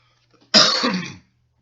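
A single harsh throat clearing with a cough, from a person with allergies, lasting about half a second in an otherwise quiet room, close and fairly loud.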